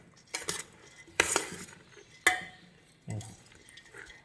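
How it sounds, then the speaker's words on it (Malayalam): A spoon mixing banana blossom thoran with salt in a metal dish gives four bursts of scraping and clinking, each followed by a short pause, close and fairly loud, with no voices. "സ്പൂൺ നന്നായിട്ട് മിക്സ് ചെയ്യും"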